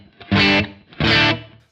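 Electric guitar through a Kemper Profiler with a natural small-room reverb of short decay, two loud strummed chords about a second apart, each ringing briefly before a quick fade.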